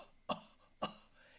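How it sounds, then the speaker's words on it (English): Two short, sharp coughs about half a second apart, fairly close and clear against a quiet background. "and he coughed loudly"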